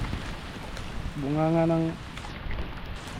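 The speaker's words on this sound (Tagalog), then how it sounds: "Lakas na yung ulan mga partner." Heavy thunderstorm rain beats steadily on water and surfaces among mangroves near a creek mouth while fishing. The broadband hiss continues throughout, and a voice speaks briefly over it near the middle.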